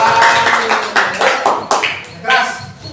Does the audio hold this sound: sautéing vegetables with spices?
no